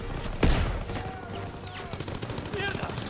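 Machine gun fire in the Call of Duty: WWII video game, with one loud near blast followed by rapid rattling bursts in a chaotic firefight while voices shout over it.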